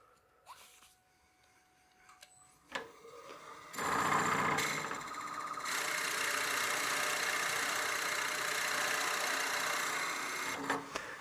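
A Forstner bit bores into wood turning on a lathe, a steady motor whine with a grinding, rasping cut that starts abruptly after a few clicks and holds evenly before stopping near the end.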